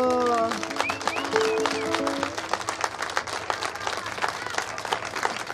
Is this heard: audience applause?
yes